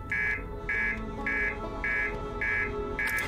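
A repeating electronic alarm beeps in a video game, six even, fairly loud pulses about half a second apart over a low background hum.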